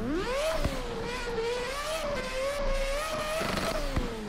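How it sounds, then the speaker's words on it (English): A Formula 1 car engine in a video game screams at high pitch, holding a sustained whining rev that rises and dips slightly, loud and continuous with brief clicks. "It's an angry F1 car."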